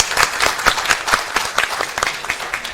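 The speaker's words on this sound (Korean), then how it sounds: "지금 참여하신 모든 분들 수고하셨다고 같이 박수하면서 끝내는 걸로 하겠습니다" A small audience at the close of an anniversary forum claps together, with individual hand claps fairly distinct and uneven in rhythm, close by and lasting a few seconds.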